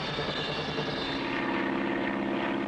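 Cartoon airplane in flight, a steady loud propeller-engine drone held throughout without talking.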